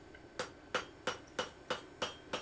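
Copper sheet struck with the rounded end of a hammer to texture it: seven evenly spaced, sharp metallic taps about a third of a second apart, close and clear over a quiet background.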